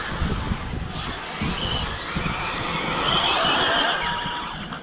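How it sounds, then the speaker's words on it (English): A Hyper GT remote-control car accelerates across a small area, its motor whining steadily with a faint tyre scrub, holding a fairly even loudness that swells slightly toward the end. "I'll try and do a sort of quick acceleration test"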